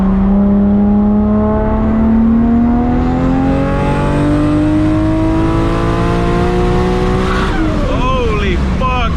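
A 1000+ horsepower MK4 Toyota Supra pulls hard in second gear, its engine roaring loud and close with pitch climbing steadily, then a sharp shift near the end as a voice speaks briefly.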